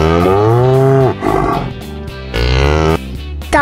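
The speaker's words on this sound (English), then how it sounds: "Cow." A cow moos loudly and close by, several drawn-out bellowing calls in a row with short breaks between them.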